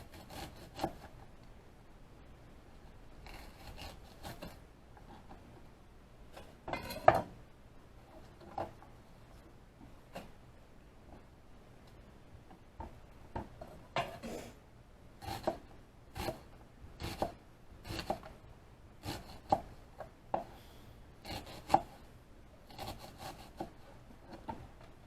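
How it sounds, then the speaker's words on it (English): A knife slices onions on a wooden board, making irregular clusters of crisp chopping taps and scraping cuts up close, with quiet pauses between bursts. "I sliced up all the onions"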